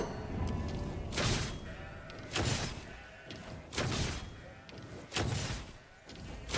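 Goats being attacked in a video game, with a repeating pattern of loud bleats and impact thuds about once every second or so, cutting through steady game ambience.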